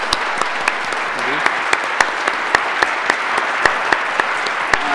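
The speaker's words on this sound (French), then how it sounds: "Je pense qu'on peut vraiment l'applaudir pour ce cadeau qu'il vient de nous faire." Audience at a conference talk on storytelling applauding steadily, a dense, even wash of many hands clapping with sharper individual claps standing out, moderately close, with no talk over it.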